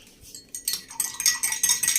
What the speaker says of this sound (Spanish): la revolvemos bien pues para que se disuelva.